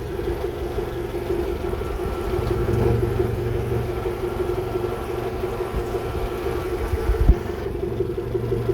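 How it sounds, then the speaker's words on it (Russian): A Suzuki DF 100 outboard boat motor, 2.0 litre, runs at a steady, even idle with a continuous low drone and a faint watery background. "Моторчик работает ровно."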